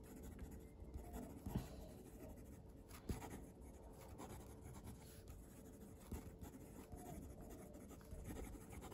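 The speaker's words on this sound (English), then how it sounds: "let's do some fast writing" Fountain pen with School Blue ink moving fast across paper, a continuous faint scratching with brief louder strokes scattered through, close and quiet with no talking.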